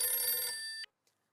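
A telephone bell rings once, a bright, close trill that stops abruptly, followed by silence.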